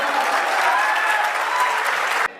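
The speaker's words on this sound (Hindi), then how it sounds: "तालियां बजा दो।" Audience applause at a Hindi comedy poetry (hasya kavi) event: a loud, even burst of clapping from a large crowd that runs steadily for about two seconds and then cuts off abruptly.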